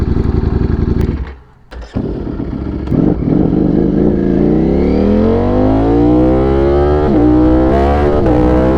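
A V4 sport motorcycle of over 200 horsepower on the road roars loudly close by, drops briefly as the throttle closes, then pulls hard in a long rising rev with gear changes and no speech.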